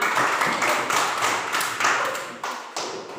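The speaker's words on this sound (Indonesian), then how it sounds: "Ya, kita tepuk tangan" Elementary school students at SD GMIT Maku clap after a classmates' role play of the shepherd boy and the wolf, a short flurry of close, uneven hand claps with a few sharper smacks.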